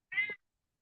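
A house cat shut inside a room lets out a single short meow, clear and fairly close, followed by silence.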